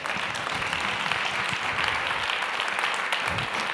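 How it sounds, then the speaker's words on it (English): An audience at a business technology conference in Paris claps in a steady, moderately distant round of applause that holds an even level for several seconds. "So give yourself a round of applause."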